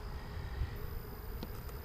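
Bees hum softly through an open hive during a beekeeper's inspection and feed top-up, a steady low insect drone with a couple of brief clicks and knocks from handling the frames.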